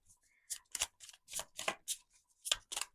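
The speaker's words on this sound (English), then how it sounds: "Some people just shuffle their cards on the table and pick them up like that." Tarot cards are shuffled on a table in a series of about ten crisp, quick riffling bursts, close and clear with short pauses between them.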